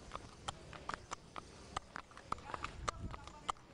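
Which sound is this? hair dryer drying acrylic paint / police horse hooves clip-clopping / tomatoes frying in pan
police horse hooves clip-clopping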